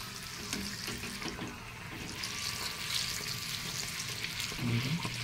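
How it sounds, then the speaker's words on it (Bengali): Luchi frying in oil, giving a steady, faint bubbling sizzle with a few light knocks of a utensil in the pan, close by. "একটু হালকা হালকা চাপ দিয়ে ভাজলেই প্রতিটা লুচি ফুলে যাবে।"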